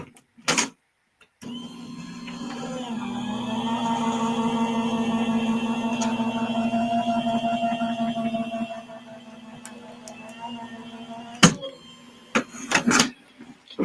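A card craft embossing machine cranks a card through between large plates, giving a steady mechanical whir and hum for several seconds, close and moderately loud, framed by a few clicks and knocks before and after.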